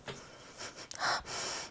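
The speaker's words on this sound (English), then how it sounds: "Smells about the same. Sniff test." Someone sniffs closely at a leather handbag, giving a few short, soft, breathy inhalations right by the microphone before one longer sniff, with no talking.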